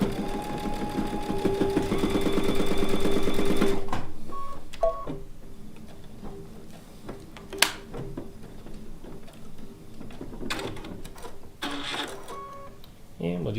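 A sewing machine stitches down fabric on a bowl cozy in a fast, steady mechanical whir for a few seconds, followed by clicks and handling noises while a person talks.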